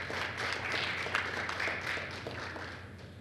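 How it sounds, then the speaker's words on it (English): An audience at a sports team reveal gives a round of applause, a dense wash of many hands clapping at moderate distance for the full stretch. "Give her a round of applause even though she's not here."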